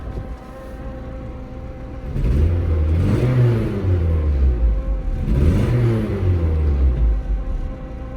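An ABA-swapped Mk1 Volkswagen Rabbit engine rumbles at idle, then revs up twice in two rising and falling surges, loud and close with no talk.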